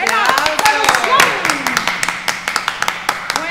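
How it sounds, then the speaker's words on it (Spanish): A family gathering at a Christmas hallaca celebration breaks into clapping, first mixed with excited voices, then thinning to a handful of sharp, separate claps close by near the end. "¡Gran aplauso!"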